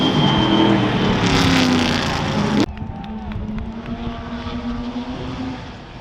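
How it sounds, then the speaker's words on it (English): A white Lotus Climax 15 racing car passes loudly and close at Goodwood, the engine note rising and then cutting away sharply as it goes by, followed by a fainter engine sound. "The white Lotus Climax 15, that's Michael Gans"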